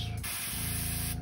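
Airbrush spraying thinned paint for a blue back shad pattern, a steady close hiss that starts abruptly and runs about a second before cutting off.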